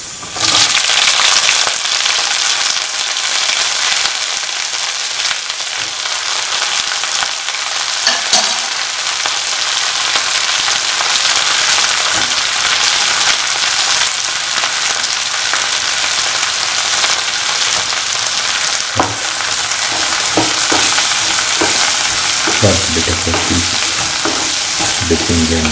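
Bitter gourd pieces fry steadily in a pan for a pickle, a dense, loud crackling sizzle that continues throughout, with occasional stirring scrapes toward the end.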